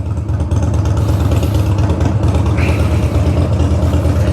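A warmed-up Harley-Davidson Dyna motorcycle engine idles close by, a loud, steady, throbbing low rumble lasting throughout, with no voices over it.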